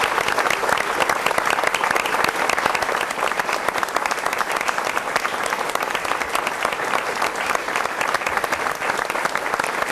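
Sustained, dense applause from a crowd of coworkers and family at a television newsman's farewell, steady and loud throughout without pause.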